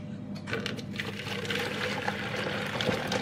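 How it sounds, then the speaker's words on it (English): Hot water pours steadily into a jug, a continuous splashing rush with a gurgling, filling quality, close by and fairly loud throughout. "We're going to pour the water into the jug."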